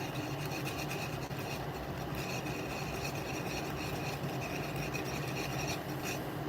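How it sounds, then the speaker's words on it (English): A part of a Penn 8500 spinning reel, badly pitted, is hand sanded in small circular motions, producing a continuous close, dense scratching and rasping rub with no pauses. "Gotta do a little more rotation, I guess, on my sanding."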